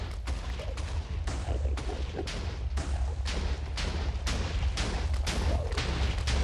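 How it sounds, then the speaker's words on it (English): Explosions close by in the video game Minecraft, a rapid series of sharp blasts and cracks repeating over a steady rumbling background. "Kind of disconcerting hearing the explosion so close."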